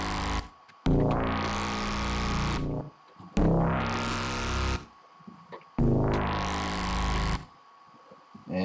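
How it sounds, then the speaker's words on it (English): A Borgore-style pig squeal bass wobble synthesized in NI Massive plays in three loud, distorted bursts, each a rising, squealing growl lasting about two seconds with short gaps of silence between. "you should now have the infamous Borgore bass wobble done in massive"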